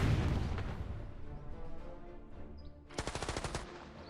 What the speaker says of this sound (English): So I can keep firing at this unit with HE.